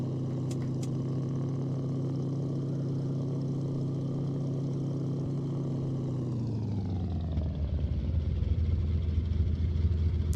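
Propeller engine of a Yakovlev Yak-18T aircraft in X-Plane 11, a loud steady droning hum that winds down in pitch after about six seconds into a lower, rougher rumble.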